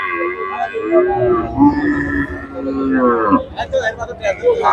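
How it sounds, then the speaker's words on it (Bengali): A desi cow with a calf at a cattle market in Shariatpur moos loudly and close, a long drawn-out call followed by a shorter one, with crowd noise and voices around it. "এই গরুটি কিন্তু দেশি বিটের একটি গরু"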